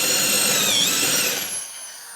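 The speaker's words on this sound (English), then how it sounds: "We'll drill another one." A power drill bores a hole into a steel steering part for a rat rod, a loud close whining grind with a shifting pitch that winds down and stops near the end.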